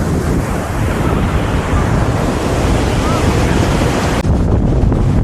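Surf rolls in at Praia Vermelha beach in Rio de Janeiro, beneath Sugarloaf Mountain, as a loud, continuous wash of breaking waves with heavy wind buffeting the microphone throughout.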